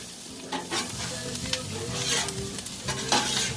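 Food being stirred and mixed on a Blackstone griddle over low heat: a continuous soft sizzle with busy scraping and clacking of a spatula across the flat top, close up and without voices.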